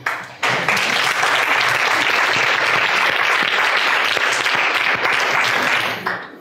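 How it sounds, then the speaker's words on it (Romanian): A conference audience claps for Andrew Page in a loud, dense round of applause that starts abruptly, holds steady for several seconds and tapers at the close. "aș vrea să-l aplaud eu pe Andrew Page"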